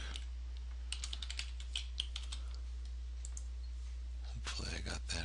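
Typing on a computer keyboard while signing in to Twitter, heard as scattered bursts of quick keystrokes and clicks, fairly close over a steady low hum, with a denser run of taps near the end.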